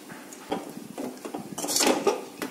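A spoon scrapes and knocks against a pan while lentil filling is mixed with chopped coriander for spicy puli pitha, producing a close series of soft clinks and scrapes that grow busier toward the end.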